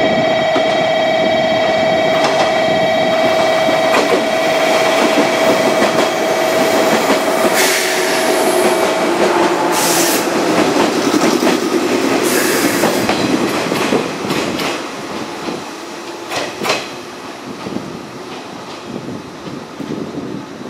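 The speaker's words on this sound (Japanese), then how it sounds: "14時2分発普通列車小倉行きも到着です" A 415 series local train pulls into Moji station, its wheels rumbling and clicking along the track with brief squeals and a long steady tone, slowing and quieting toward the end of the approach.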